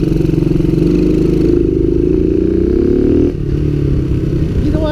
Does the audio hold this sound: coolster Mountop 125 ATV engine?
yes